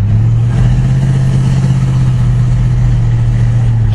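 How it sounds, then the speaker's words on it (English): A 1965 Dodge Polara with a 383 V8 runs at a steady, loud, close rumble with a strong low drone throughout, no voices. "It does have quite a bit of power with that 383 under the hood."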